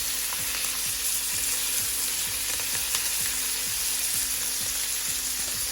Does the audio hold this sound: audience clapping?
no